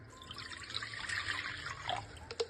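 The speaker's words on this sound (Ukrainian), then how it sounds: "У мисці з'єднуємо воду нагріту до теплого стану." Warm water poured into a mixing bowl while preparing yeast dough for fried pea-filled pastries, a steady trickling splash running throughout at close range, with a few brighter drips near the end.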